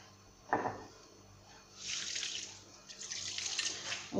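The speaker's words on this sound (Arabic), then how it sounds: "نزيد نجيب الماء." Water poured into semolina dough for homemade bread: a brief splash first, then two longer bursts of running, splashing water, moderately close and otherwise quiet.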